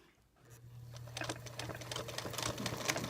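A Featherweight sewing machine stitches fabric, starting quietly and building into a steady, rapid mechanical whir with a low motor hum and dense clicking needle strokes, close and alone.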